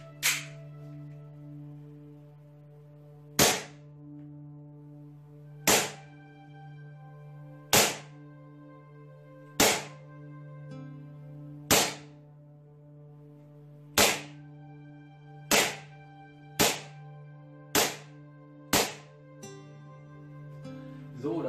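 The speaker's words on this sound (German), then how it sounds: "Jetzt machen wir noch mal 10 Schuss auf 7 Meter mit Alu-BBs." Hex Cut 1911 Gen.2 gas blowback airsoft pistol firing aluminium BBs, ten sharp separate shots at an irregular pace, each a crisp snap over a steady background hum, with no talking.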